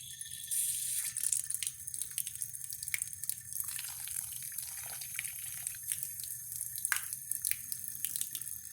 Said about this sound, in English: So add some water to it.